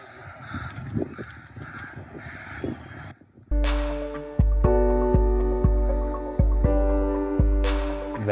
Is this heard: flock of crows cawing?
yes